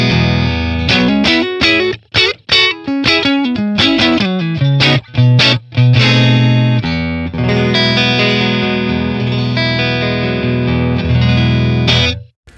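Electric guitar played through a Matchless Laurel Canyon tube amp on clean fat settings, with a bright, full tone, quick plucked notes and chords at first, then sustained ringing chords, loud and alone.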